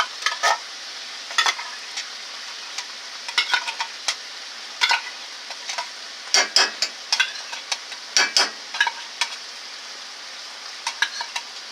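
Meat sauce with pizza sauce stirred in a pan, a spoon scraping and clicking in quick irregular strokes over a soft, steady sizzle.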